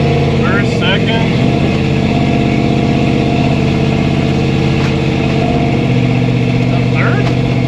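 A 1964 Chevy II engine drones steadily from inside the car on a road test, its mid-pitched hum continuous with a slight change in tone near the start as it moves up through the gears.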